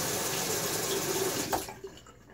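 Running tap water splashes steadily into a sink as a razor is rinsed between passes of a wet shave, a continuous close rush that cuts off partway through, leaving a few faint drips and clinks.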